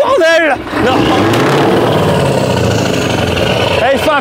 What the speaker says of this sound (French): il fait un putain de beau bruit ton camion